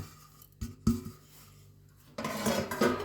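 Roasted sesame seeds, cooled for a sesame and jaggery sweet, tipped into a mixer grinder jug: a couple of sharp clinks of the container, then a louder pouring rattle and scrape near the end.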